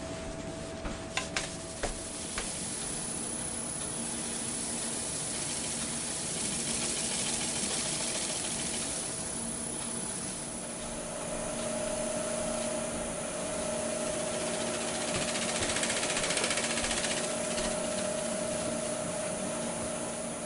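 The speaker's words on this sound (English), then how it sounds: "Bringing the speed back down low before I turn the lathe back on." A wood lathe spins a live-edge walnut crotch bowl at low speed, giving a steady broadband whir with a faint hum, continuous and fairly close, with no talking.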